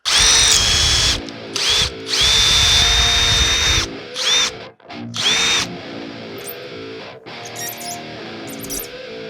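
A power drill bores into a broken 10mm bolt on a Can-Am side-by-side, whining loudly in repeated bursts with pitch dips under load, then stopping and restarting a few times before running more quietly.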